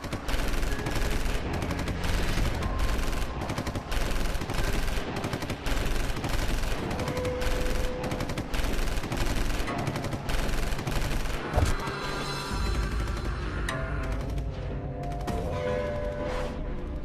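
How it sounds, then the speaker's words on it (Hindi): Sustained bursts of rapid gunfire rattle continuously, dense and loud, like several weapons firing at once with heavy background rumble. "बहुत बरसाली गोलियां"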